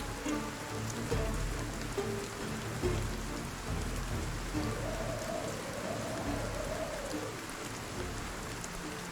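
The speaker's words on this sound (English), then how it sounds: "And the rain is back." Rain falling in the Project Zomboid video game, a steady dense patter of drops on surfaces throughout, with faint tonal game ambience mid-way.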